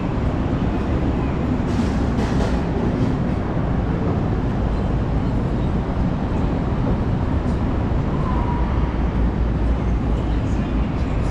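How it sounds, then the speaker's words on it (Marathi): Washington's Blue Line underground metro train rumbles steadily and heavily for the whole stretch, a dense low roar with a faint squeal partway through, no talk over it. "इथे परत वॉशिंग्टन सिटी एक ब्लू लाईनचं अंडरग्राऊंड मेट्रो."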